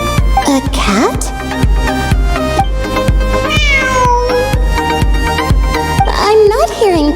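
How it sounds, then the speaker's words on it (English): A cat meows repeatedly within the Genshin Impact video game, its cries rising and falling over a loud, steady music track with a pulsing beat. "It really is a cat."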